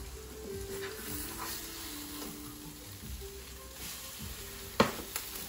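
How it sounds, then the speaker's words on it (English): An egg frying on bread in a pan gives a soft, steady sizzle with a few faint scrapes and one sharp knock near the end as the bread is turned, close but quiet. "So you turn your bread with the egg on top."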